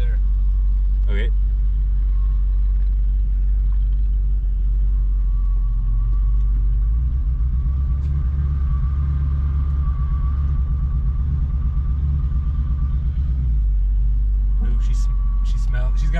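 A 1977 Ford Ranchero engine with a slight miss rumbling steadily while driving, loud and close inside the cab, with a deep continuous drone throughout and people talking over it.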